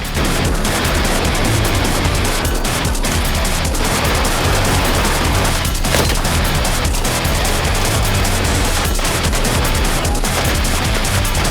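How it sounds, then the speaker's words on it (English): Rockets and gunfire in the game Arc Raiders form a dense, loud, continuous din, with rapid bursts of shots and heavy booms layered over a steady roar, with no voices. "the deafening blows of rockets and gunfire"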